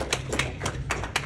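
A handful of light, evenly spaced hand claps, about five in quick succession, close and fairly soft, with no talking.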